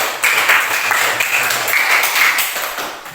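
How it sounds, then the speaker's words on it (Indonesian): Students clapping in a classroom, a steady, even wash of applause lasting a few seconds at moderate distance, with no talking over it. "tepuk tangan untuk"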